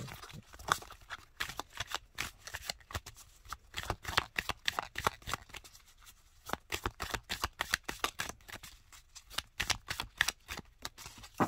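Oracle cards being shuffled by hand, a fast run of soft papery riffles and slaps in uneven bursts, close and fairly quiet, with no voices.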